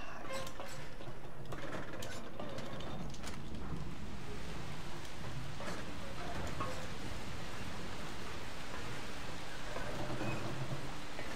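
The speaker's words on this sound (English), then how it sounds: "Oh, it's raining." Steady rain patters continuously at moderate volume in Far Cry 3, a soft even wash of drops with faint scattered clicks and no voices.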